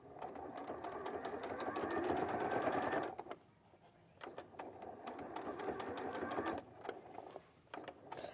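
A sewing machine top stitches a make-up bag in close, rapid whirring runs: a long burst, a short pause, then another run and a brief final spurt, with a little talk in the quieter gaps.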